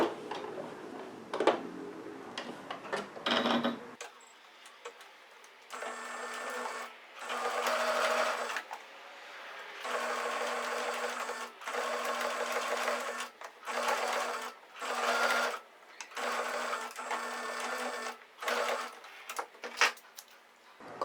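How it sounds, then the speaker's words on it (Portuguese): A sewing machine stitching a straight seam on fabric for a pencil case, running in repeated bursts of a few seconds each with brief pauses between, quiet and close, its rapid needle chatter steady within each run. "vamos passar uma costura aqui reta"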